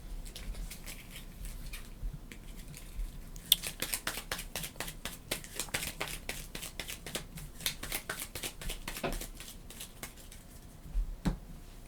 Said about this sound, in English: and they shuffle